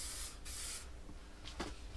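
Aerosol spray paint hisses outdoors while painting a Mercedes Sprinter Unistrut roof rack, two long bursts up front and a short third one near the end, steady and close with no talk.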